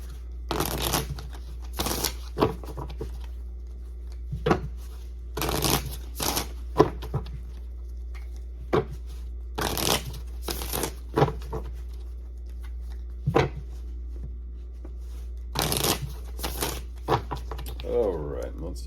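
A tarot card deck is shuffled by hand in quick riffling bursts, close to the mic, with short pauses between each run.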